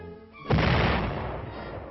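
An artillery piece fires once, a sudden heavy boom that rolls out into a long, fading rumble.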